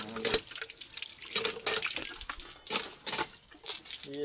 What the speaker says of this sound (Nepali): तराई क्षेत्रमा पानी यसरी आउँछ